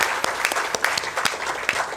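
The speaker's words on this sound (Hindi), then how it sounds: "आई बिलीव हम सभी नेहा के हस्बैंड के लिए तालियां बजा सकते हैं" An audience at an aspiration stories session claps together in a short burst of applause, with individual claps popping out of a busy, continuous patter that fills the room.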